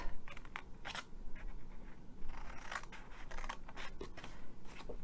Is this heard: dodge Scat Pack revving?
no